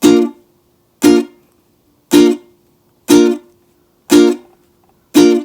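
Six short, percussive ukulele strums evenly spaced about a second apart, each chord choked off quickly by muted strings.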